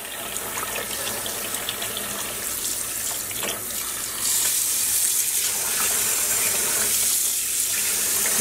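Tap water runs steadily as a dyed cotton shirt is rinsed in a sink, splashing and rushing close by, with the flow growing louder and brighter about halfway through.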